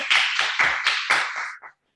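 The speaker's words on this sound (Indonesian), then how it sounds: "Boleh tepuk tangan semuanya." A handful of loud, close hand claps in a rapid uneven series, about six sharp strikes trailing off, at a bank's financial-talk event.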